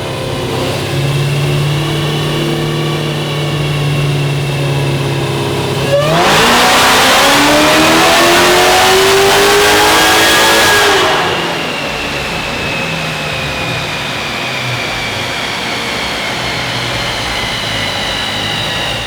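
A Dodge Demon engine on a dyno idles steadily, then roars into a full-throttle pull with rising revs for about five seconds before dropping back to a lower drone and idle, loud and close with no talking.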